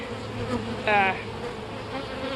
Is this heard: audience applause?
no